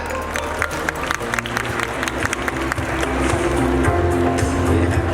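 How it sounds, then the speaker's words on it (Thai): A crowd applauds with dense, sustained clapping that swells louder toward the end. "ขอเสียงปรบมือดังๆ"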